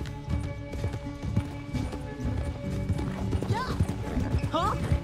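Horse hooves clip-clop in a steady rhythm in the video game Red Dead Redemption 2, loud and close, with voices talking over the hoofbeats.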